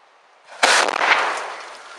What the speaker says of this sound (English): I think my box cutter blew about 30 feet up, consuming valuable energy and trimming my tree in the process